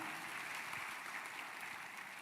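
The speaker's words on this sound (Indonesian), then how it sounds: "tepuk tangannya meriah buat Tuhan kita." A church congregation applauds during a sermon, a steady, full wash of many hands clapping together throughout with no break.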